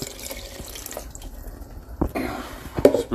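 Water pours from a container into tomato puree in a pot for a seafood soup, a soft trickling splash that grows a little louder toward the end, close with light clatter and no talk.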